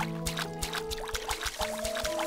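A watering can sprinkles water over crops in the Staxel farming video game, a soft pouring trickle in short repeated splashes over steady background music.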